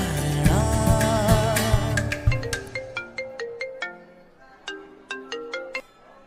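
A melodic phone ringtone plays alone, its bright synthesized notes starting dense and full, then thinning into a sparse repeating pattern of plucked tones that fades toward the end.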